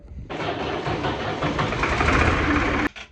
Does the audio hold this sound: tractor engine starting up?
yes